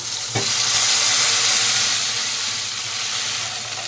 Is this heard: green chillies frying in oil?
yes